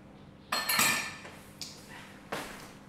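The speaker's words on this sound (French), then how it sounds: "Donc, on prend la cuillère magique et on mélange." A magic spoon mixes batter in a bowl for a no-bake little cake, producing close clinks and scraping knocks against the bowl, one longer burst of stirring followed by two brief taps.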